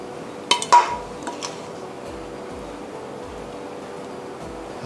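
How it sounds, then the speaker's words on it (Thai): Cockle curry with betel leaves spooned onto a large serving plate, a few sharp clinks of spoon against dish early on, then quiet kitchen hum with faint soft scrapes. "ผมก็จะไม่มีอะไรมากแล้วนอกจากตักลงจานนะครับ"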